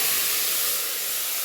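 Chicken pieces added to a pressure cooker with a spoon of hot oil and ginger garlic paste fry with a dense, loud sizzling hiss that eases slightly toward the end, heard alone without talking.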